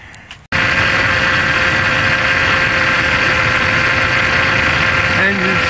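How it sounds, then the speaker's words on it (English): A 2005 Dodge Ram with the 5.7 engine cranks briefly, then catches and settles into a loud, steady idle with a constant hum and vibration. "Engine started."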